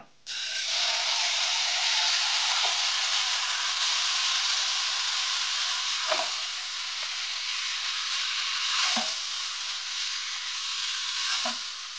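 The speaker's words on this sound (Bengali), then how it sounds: "এখন আমরা এটার মধ্যে মাংসটা ঢেলে দিব।" Beef poured into a pan of softened, lightly browned onions sizzles loudly and steadily for the whole stretch, a dense broad hiss broken by a few soft stirring scrapes.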